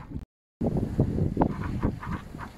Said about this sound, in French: Alors, il y a un peu plus de vent